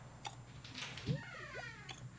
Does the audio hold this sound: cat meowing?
yes